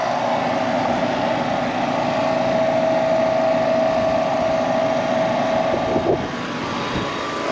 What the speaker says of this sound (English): Got us a compressor out here.